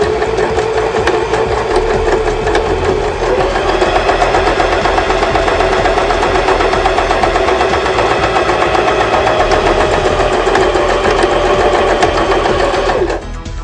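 A sewing machine runs steadily while stitching a straight seam, with a brief reverse backstitch to lock the ends; the whirring motor stays close and loud throughout, then stops abruptly at the end.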